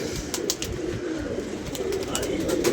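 Pigeons at a loft coo softly and steadily over a murmuring background with faint clicks, all at a low, even level.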